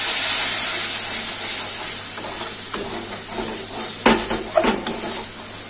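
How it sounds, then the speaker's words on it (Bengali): Water poured into fried masala in a pan for egg curry, a steady hiss and sizzle followed by a few clinks of a utensil against the pot, close and alone without talk. "এবার আমি জল দিয়ে দেবো।"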